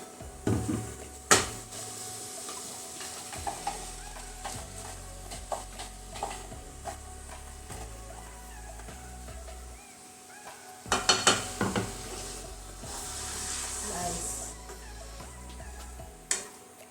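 Ground paste being stirred into a field bean and potato curry in a pot, with intermittent scraping and clinks of a spoon against the pan, a few sharper knocks and a soft sizzle underneath.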